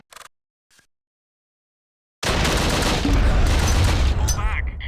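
Gunfire from the WWII tactical game Close Combat: Wacht am Rhein, with a couple of faint clicks and then a loud, dense burst of rapid shots that goes on without a break.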